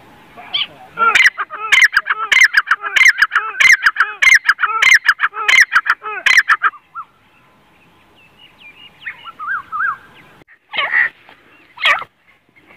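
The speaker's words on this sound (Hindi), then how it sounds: "ये देखो जी आजाद घूमते हुए सफेद दखनी तितर माशाल्लाह" A white Deccani francolin walks free outdoors, giving a run of loud, harsh repeated calls in quick succession for several seconds, then a pause and a few scattered shorter calls near the end.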